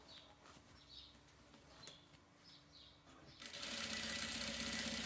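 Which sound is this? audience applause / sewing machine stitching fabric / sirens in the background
sewing machine stitching fabric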